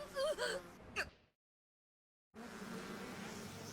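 Buzzing of a swarm of bees in an anime scene, loud and close at first with whining rises, then cut off by silence before a dense insect drone returns and holds steady to the end.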